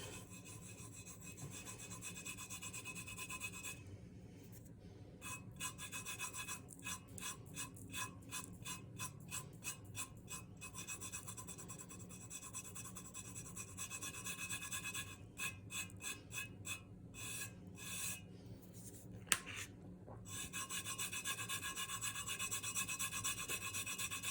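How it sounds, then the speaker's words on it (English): A fingertip rubs glitter onto a tumbler in a close, gritty, continuous friction sound, broken by several rapid bursts of short scratchy strokes. "take your finger and just start rubbing in the glitter"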